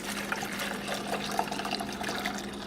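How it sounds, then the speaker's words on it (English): Fresh water pours and splashes into a coffee maker's reservoir in a continuous close trickle and gurgle, with no talking. "Going to fill the reservoir."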